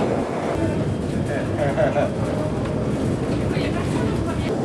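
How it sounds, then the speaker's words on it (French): A train-like rumble on board the Mont Blanc tramway in the French Alps, a continuous rolling drone with faint rattles and squeaks, steady and close. "Alors ce tramway du Mont Blanc dans lequel on est en réalité il arrive à 2300 et quelques mètres."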